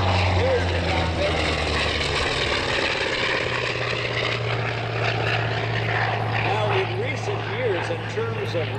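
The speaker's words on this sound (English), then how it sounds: "Dan McCue is going to bring it in on a stage scraping run" A propeller-driven F4U-5 Corsair makes a low, ground-scraping pass at the 2009 Cecil Field airshow, its loud engine drone steady and close for the whole span while an announcer's amplified voice talks over it.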